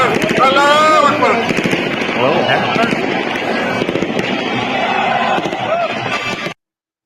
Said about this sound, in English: I assume that's celebrative gunfire, not killing people gunfire